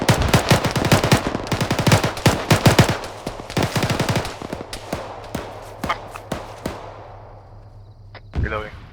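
Rapid machine gun bursts in ArmA 3 come close and loud in quick volleys, then thin out into scattered single shots, with a voice over the firing.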